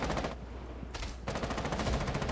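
Rapid bursts of close gunfire in Rainbow Six Siege, a short pause splitting two loud volleys that fill the brief moment without speech.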